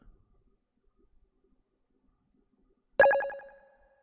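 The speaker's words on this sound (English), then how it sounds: "I'm gonna try and sort out the notification sound." Stream notification alert: near silence, then a single bright, ringing chime with several short repeated pulses that fades out over about a second.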